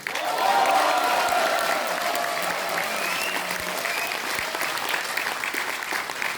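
Sustained applause fills a hall at the launch ceremony of a new political party in South Korea, a dense, even wash of clapping that peaks early and holds steady, with faint voices underneath.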